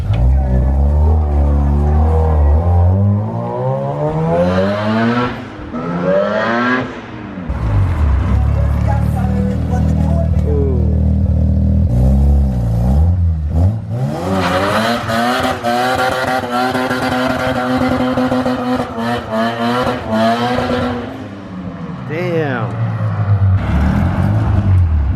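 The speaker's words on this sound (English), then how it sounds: "I hear the RX-7." A Mazda RX-7's rotary engine revs loud and close in repeated rising and falling pulls, with a short lull near the middle before it climbs hard again and holds a high, buzzing drone.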